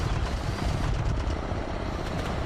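An enemy helicopter in a multicrew tank combat video game gives off a steady, dense rotor and engine rumble that holds at an even level with no talk over it.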